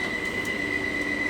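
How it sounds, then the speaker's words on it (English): Steady rumble of a London Underground Bakerloo line train with a thin high whine running throughout, moderately loud and continuous, no speech. "There is a Bakerloo line train right there."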